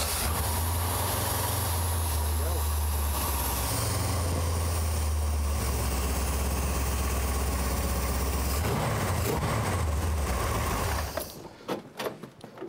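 A motorcycle engine fires up after fuel priming and settles into a loud, steady close-up idle running throughout, then cuts off near the end, leaving scattered handling noises.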